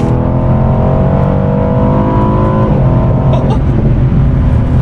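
A 2018 Aston Martin DB11's loud V8 engine revs steadily, its harmonic whine rising slightly and then settling, with a constant deep rumble throughout.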